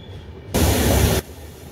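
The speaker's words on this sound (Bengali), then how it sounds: "অনেকগুলো স্টেট কভার করতে করতে চলেছে আমাদের ট্রেন।" Howrah–Mumbai Mail passenger train running, a steady loud rumbling roar of wheels and carriage noise swelling up abruptly for about a second, then dropping back to a quieter background hum.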